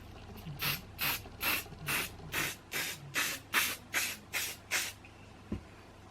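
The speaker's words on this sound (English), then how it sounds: "I literally just hairspray it." An aerosol can of hairspray is sprayed onto hair in about eleven short, even bursts of loud, close hissing, followed by a single soft knock.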